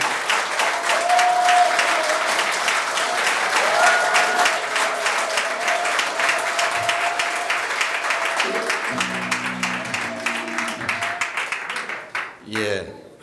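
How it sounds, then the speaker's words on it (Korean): Loud, sustained applause from a rally audience in Wonju welcoming a party leadership candidate, dense clapping that holds steady for over ten seconds, with cheers and a voice over a PA system toward the end. "뜨거운 박수로 맞아주시기 바랍니다"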